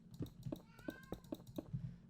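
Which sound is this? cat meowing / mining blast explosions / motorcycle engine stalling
cat meowing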